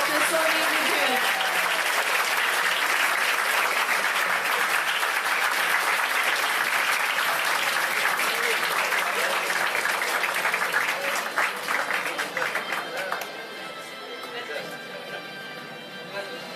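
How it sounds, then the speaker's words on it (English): Applause from the audience at the NALIMC 2025 valedictory ceremony as an honoree comes forward, sustained dense clapping from a large crowd that carries on loudly for many seconds before gradually thinning and fading toward the end. "Give a big round of applause to Dr. Soni Vijayan"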